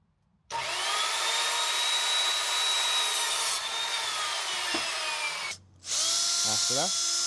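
A power drill drives screws through a campervan roof and up through a plate into the wooden batten frame, with a long steady whining run, a brief pause, then another burst alongside a few short knocks.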